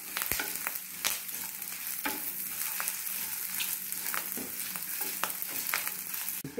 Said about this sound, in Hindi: धीमी आंच पर ही हम इसको भूनेंगे।